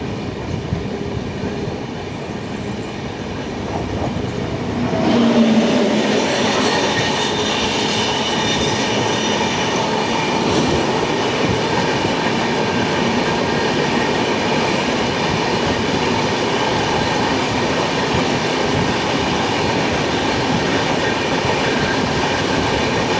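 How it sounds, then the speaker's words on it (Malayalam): Kanyakumari–Pune Jayanti Janata Express passing close by, with rolling wheels and clickety-clack on the rails building after a few seconds and then holding as a loud, continuous rumble. "കന്യാകുമാരി പുणे ജയന്തി ജനത എക്സ്പ്രസ് ആയിരുന്നു."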